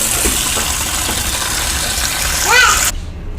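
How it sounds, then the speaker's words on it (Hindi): Cold water poured over cooked spaghetti and macaroni in a kitchen makes a steady, fairly loud rushing splash that stops abruptly. A voice is heard briefly near the end. "इस तरह से स्पैगेटी के ऊपर से हम ठंडा पानी गुजार देंगे।"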